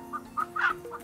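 Chickens at a chicken shop let out a few short clucks in quick succession, close and clear over a faint steady hum.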